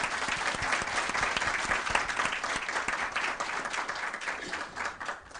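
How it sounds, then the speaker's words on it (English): An audience at a data science conference day applauds panelists, a dense, steady clapping from a sizable crowd that carries on for several seconds before thinning slightly at the end. "give our audience, our panelists, a big round of applause"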